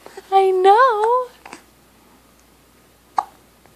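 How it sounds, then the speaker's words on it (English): A baby's vocal sounds and hiccups near the mic: a drawn-out, wavering baby vocalization, then a short hiccup-like catch shortly after and another isolated sharp hiccup about two seconds later. "Those darn hiccups."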